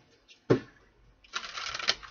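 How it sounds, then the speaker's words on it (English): A single sharp snap of cards, then about a second of rapid riffling as a deck is shuffled close by, with no talking. "One more shuffle."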